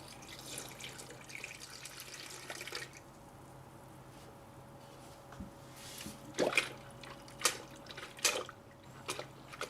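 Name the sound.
pouring coolant to refill a Honda Accord cooling system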